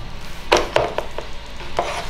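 A knife chopping toppings on a board for a very large homemade pizza. Several sharp, close cuts land at an uneven pace over a low background hum.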